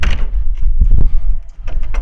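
A hinged lid on a Snap-on KR-657 or KR-637 top tool box swings open, giving a few close metallic clunks and rattles with a firm thump near the middle, then more clatter as the lid folds back.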